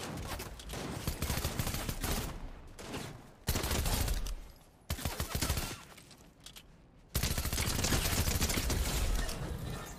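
Heavy automatic gunfire in a video game, repeated long bursts of rapid shots with short pauses between them, loud and close throughout.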